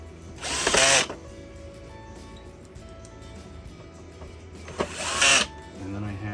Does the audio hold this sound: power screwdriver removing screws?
yes